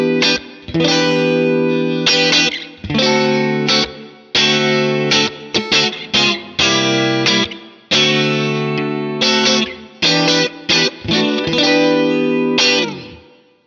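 Electric guitar plays funk chords and short phrases with a distorted, chorused tone through a Blackstar St James amp and a smooth plate reverb tail, ending as the last chord rings out.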